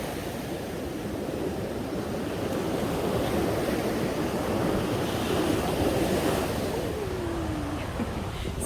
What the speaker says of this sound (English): So definitely loving the sound of the water.